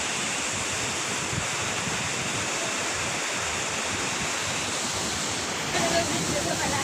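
Ditumabo Mother Falls in San Luis, Aurora: a powerful waterfall crashing in a dense, continuous roar that fills the whole stretch, close and loud, with a brief swell near the end.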